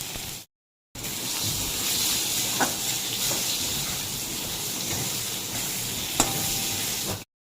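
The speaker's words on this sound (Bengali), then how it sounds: "ওদিকে মাছটা ভাজা হচ্ছে" Steady, loud sizzling of fish frying in hot oil, a continuous hiss broken by a couple of faint clicks after a brief silent gap.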